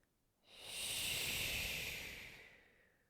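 One long, steady breath swells up and slowly fades in a yoga flow class, a soft airy rush with no talking over it.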